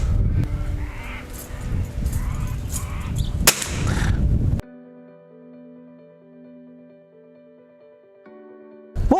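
A single sharp crack from a .22 caliber rifle rings out at an outdoor rifle range amid steady background noise, followed by a quieter stretch of sustained tones.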